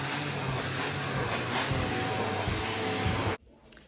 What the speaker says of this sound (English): New Hoover. Went for another shark.